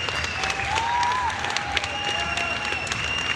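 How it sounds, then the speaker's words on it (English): A crowd claps steadily at the America's Strongest strongman competition at the Olympia as an athlete leaves the podium, dense sustained applause with a faint whistle and light cheering. "Big round of applause for Zach McCarley as he steps off the podium one last time."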